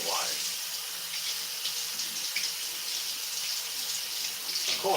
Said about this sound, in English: Step 2, we throw it in the sink. Step 3, get water.